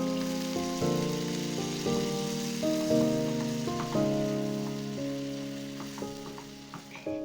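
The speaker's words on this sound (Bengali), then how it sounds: "রসুনটা সামান্য ভেজে নিয়ে দিয়ে দেব লেবুর রস।" Finely chopped garlic frying in a pan, a soft continuous sizzle beneath louder steady music, with a few faint utensil taps near the end.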